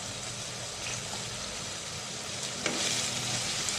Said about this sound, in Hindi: और इसको हम अच्छी तरह से फ्राई करेंगे।